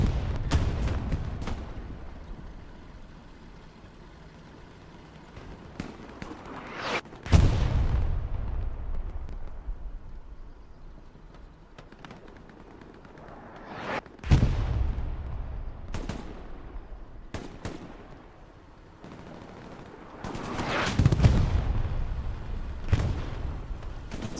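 Rockets slam into an M4A3 76 tank in the Hell Let Loose video game, with heavy booming blasts rolling out at intervals alongside scattered gunfire, set against a low rumbling battlefield backdrop.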